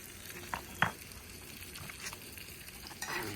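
Onion, tomatoes and ground spice paste sauté in a pan for a Maharashtrian bombil (Bombay duck) chutney: a quiet, low sizzle broken by a few sharp stirring clinks and scrapes.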